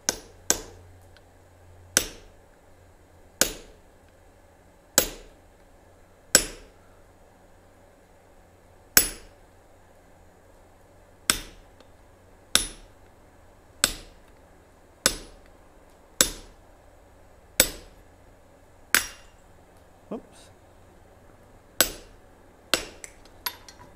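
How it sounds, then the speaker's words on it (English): Hammer blows ringing on metal at the edge of an anvil during a forge weld, about sixteen sharp, bright strikes spaced one to two seconds apart with no talk between them. "All right, Thomas, we're gonna start right here on the edge of the anvil"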